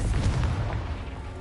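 A Confringo blasting spell explodes in a Harry Potter video game, a deep booming blast with a rumbling low-end roar that fills the brief moment without any talk.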